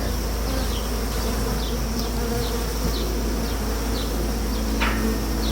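Honeybees around an open hive fill the air with a dense, loud, continuous buzz, with individual bees zipping close by every second or so.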